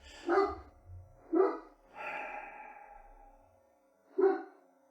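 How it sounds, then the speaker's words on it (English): A dog barks in a front yard, three or four separate woofs spaced a second or so apart with a longer drawn-out yelp between them, fairly close and clear over a quiet background. "Somebody walking their dog in the front yard, I think."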